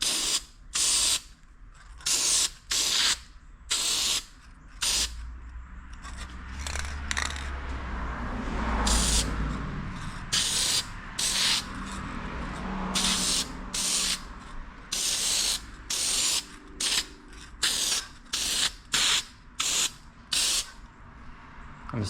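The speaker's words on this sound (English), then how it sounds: "Maxima Racing Fab 1. You know it's good. It sprays blue." Maxima Racing Fab 1 spray lubricant hissing from an aerosol can in repeated short bursts, close and loud, with quiet handling between sprays while working on a Yamaha Blaster.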